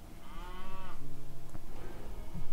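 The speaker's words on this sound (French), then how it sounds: "Donc on va ramener déjà 2 vaches ici." Cows moo in Age of Mythology, one long drawn-out low moo followed by a second fainter call, set over a steady pulsing game background with no talk.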